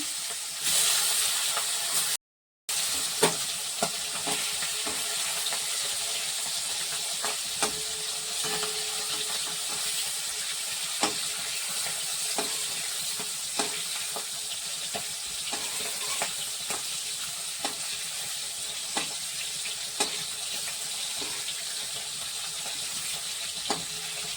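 Tengra fish marinated with salt and turmeric frying in hot oil, a continuous loud sizzle with scattered crackles and pops, a brief dropout near the start, and no talking.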